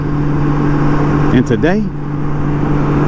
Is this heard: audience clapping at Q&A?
no